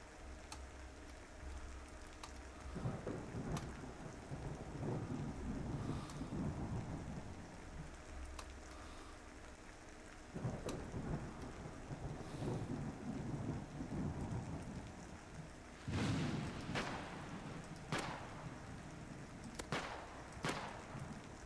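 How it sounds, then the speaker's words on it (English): Steady rain with repeated thunder claps and rumbles in a zombie survival video game, the downpour constant throughout and sharp cracks of thunder breaking in several times. "It's raining."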